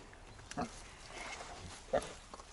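Short grunts from a large Korean pig of about 100 kg, a couple of brief snorts standing out over low background noise with faint voices nearby.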